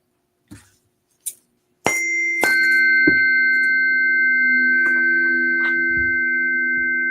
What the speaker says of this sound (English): I use these tuning forks to clear our energy, and they sound like this.